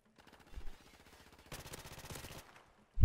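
Rapid automatic gunfire from a 1v1 wager match in a video game, steady bursts of shots that grow louder and denser midway before fading, ending with a sharp thump.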